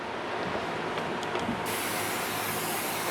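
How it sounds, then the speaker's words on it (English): A spray bottle misting a tray of arugula microgreens: a continuous close hiss of fine spray that shifts in tone partway through, steady and fairly loud, with no talking. "Let's go ahead and give this a light mist across the top. And then we'll give it a light mist underneath."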